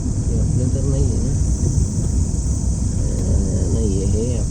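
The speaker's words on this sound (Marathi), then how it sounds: "बॅकग्राऊंडला जो आवाज आहे तो जंगली किड्यांचा आवाज आहे कदाचित." Wild insects, likely crickets, in the forested Goregaon Film City area of Mumbai, giving a steady high-pitched drone that runs throughout alongside continuous low rumble and broadband background noise.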